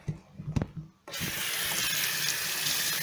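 A kitchen tap bursts on and runs steadily, water splashing into a sink as freshly harvested wild amaranth leaves are rinsed, loud and continuous after a few brief handling knocks.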